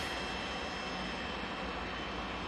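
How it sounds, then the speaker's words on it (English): A Pilatus PC-24 business jet at Manchester Airport gives off a steady, broad engine roar and hiss, a constant fairly distant drone with no talk over it. "as we do have the Silver Aviation PC-24 with us."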